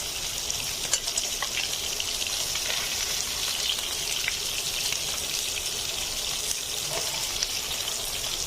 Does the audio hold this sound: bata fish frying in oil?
yes